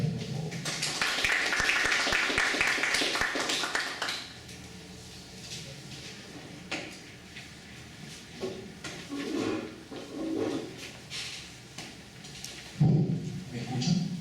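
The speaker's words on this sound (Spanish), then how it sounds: "Aplausos para él, por favor." Audience applause for a speaker at a talk on neuropsychology and anxiety disorders, a dense burst of clapping over the first four seconds that then thins to scattered claps and room noise.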